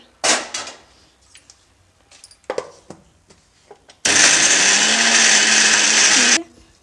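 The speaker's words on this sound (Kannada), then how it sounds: "ಈಗ ಇದನ್ನು ನಾನು ಜಾರೊಳಗೆ ಸೇರಿಸ್ತಾ ಇದ್ದೀನಿ ಇದಕ್ಕೆ ನೀರೇನು ಹಾಕಕ್ಕೆ ಹೋಗಬಾರ್ದು ಹಾಗೆ ರುಬ್ಕೊಳ್ಳಿ" A mixer grinder jar grinds onion chutney without water in one loud, steady whirring burst lasting about two seconds, preceded by close clinks and knocks from the jar being handled.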